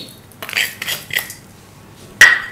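Chewra nimko being stirred in a pan with a metal spoon, a few soft scraping rustles followed by one sharp metallic clink, close and with no talk.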